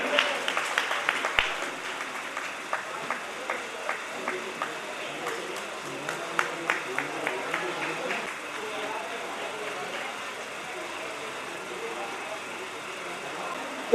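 An audience at a Gopashtami celebration claps in a steady patter of hands that is fairly distant and moderate in volume, while a voice over a microphone talks through it.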